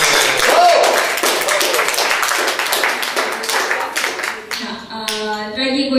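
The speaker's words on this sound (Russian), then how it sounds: "Аплодисменты." An audience applauding at a live marimba ensemble performance: dense, loud, sustained clapping that thins out and gives way to a few ringing musical tones near the end.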